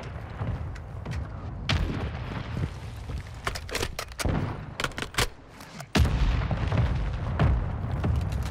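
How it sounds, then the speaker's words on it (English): Repeated mortar strike explosions in the Call of Duty Warzone video game, a string of sharp booms and thuds over a continuous low rumble, with a heavier blast near the end. "Hostile mortar strike near your position."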